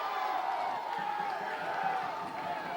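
A North Haven high school football crowd roars with sustained, distant cheering and whooping in the stands, a steady wash of noise with no clear breaks.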